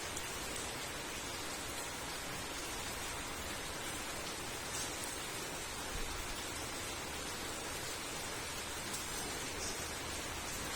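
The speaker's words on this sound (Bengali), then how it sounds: "আর জল পড়ে চলেছে, বৃষ্টির জল।" Rain falls steadily through a late night along a road, a dense, even hiss of drops that never lets up, with no voices.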